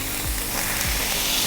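Steady, loud sizzling of smashburger patties frying on a hot Blackstone griddle, with a few soft scraping knocks underneath.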